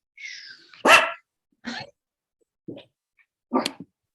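A dog barks indoors, a few separate sharp barks spaced about a second apart, fairly close, with silence between them.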